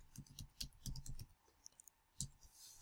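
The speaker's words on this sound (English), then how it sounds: "Now I'm going to type in tree service." Typing on a computer keyboard: soft, fairly distant clicks in short irregular bursts, quiet and unaccompanied by talk.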